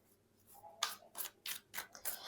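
Tarot cards being drawn and shuffled by hand, a series of about six crisp, close papery swishes and slides in an uneven rhythm, with no talking.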